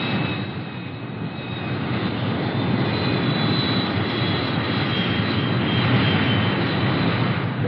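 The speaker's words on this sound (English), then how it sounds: "Back at the base, the fighter bombers take off." Late-1950s US Air Force fighter bombers taking off from a base, a loud, sustained jet roar with a thin whining tone on top that holds steady and slowly swells, with no voices.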